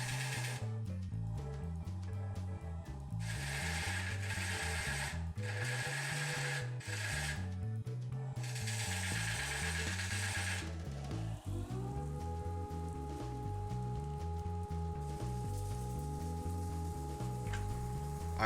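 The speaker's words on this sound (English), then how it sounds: "I will sand through the grits from 100 to 400." Sandpaper working the bottom of a turned wooden segmented vessel spinning on a lathe, a loud steady whirring hum with rhythmic rising and falling hiss as grits change, continuous and close throughout.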